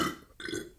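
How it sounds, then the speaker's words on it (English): A single short, close burp right after chugging a bottle of Sprite, loud and abrupt. "I would say you burped 7 times."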